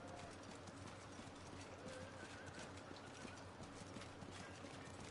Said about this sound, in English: Look at that majestic trot.